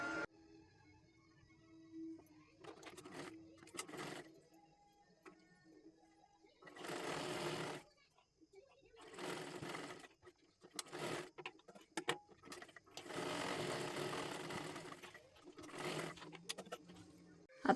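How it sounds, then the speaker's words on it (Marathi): A home sewing machine runs in several bursts of stitching a fancy dress made from a Kathpadar saree, each run lasting one to three seconds, separated by quiet pauses with small handling clicks. "पूर्ण शिलाई खालीपर्यंत आपल्याला मारून घ्यायची आहे आणि डबल शिलाई मारून घ्या"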